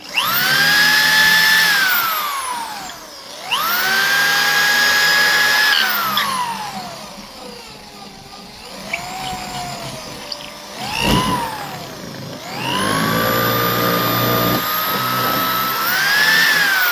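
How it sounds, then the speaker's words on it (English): A power drill bores multiple holes in a mounting bracket, its motor whining up and slowing in repeated long runs with brief pauses between holes. "Which is just drill multiple holes."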